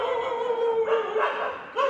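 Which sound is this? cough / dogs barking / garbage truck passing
dogs barking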